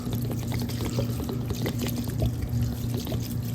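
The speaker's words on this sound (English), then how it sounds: "we're gonna add some white vinegar" White vinegar is poured into a mixing bowl of thinly sliced vegetables for Haitian pikliz, a steady, close splashing trickle of liquid lasting the whole moment over a low background hum, with no talking.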